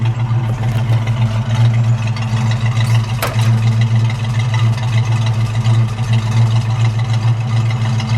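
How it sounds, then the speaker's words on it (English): A 1965 Ford Mustang 2+2 Fastback with a 289 V8 and three-speed idles steadily and close up, a deep, even rumble that runs throughout with no talk over it. "Let me listen to it idle. A little more sound than the regular 289"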